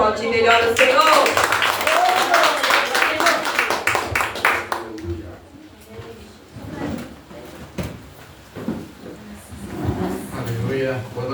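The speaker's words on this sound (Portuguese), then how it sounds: "Você pode aplaudir melhor o Senhor?" A church congregation claps and applauds loudly for the first few seconds, a dense crowd of handclaps that then fades into scattered claps and background noise while voices continue.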